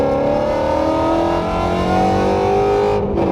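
A car engine hums and rises steadily as the vehicle pulls away and accelerates, loud and close throughout, easing off briefly at the end.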